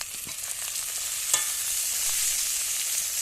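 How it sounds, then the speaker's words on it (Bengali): Ginger frying in oil with bay leaves and chopped tomato being stirred, a steady close sizzle with a few scraping strokes of the spoon. "দেখো আদাটাকে একটু ভালো করে নাড়ব দুটো তেজপাতা টমেটো কুচি"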